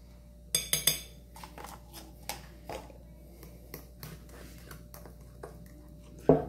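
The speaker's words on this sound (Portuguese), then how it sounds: "Vou mexer aqui por último." A spoon stirring cornmeal-banana cake batter with baking powder in a bowl, a few sharp clinks against the dish followed by softer scattered taps, close and quiet with no talking.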